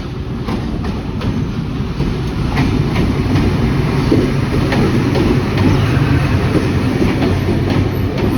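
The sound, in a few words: Awam Express train with ZCU 20 locomotive passing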